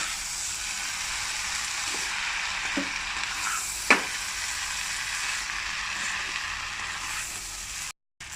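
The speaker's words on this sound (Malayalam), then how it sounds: "ഇങ്ങനെ മസാലയും പാസ്തയൊക്കെ ഇങ്ങനെ യോജിക്കണ വരെ കുടഞ്ഞിങ്ങനെ വെക്കുക." Spicy chicken pasta with masala sizzles steadily in a pan as it is tossed, a constant frying hiss broken by a few soft knocks and one sharp clink of the pan.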